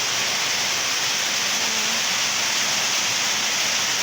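Dense, steady hiss of heavy rain pouring down on a leaking house roof without pause, a loud wash of noise filling the space and no voices present.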